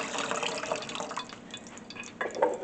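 Broth pours into a pot while Jamaican oxtails with butter beans cook, a soft, steady liquid trickle with light splashes, fairly quiet and close.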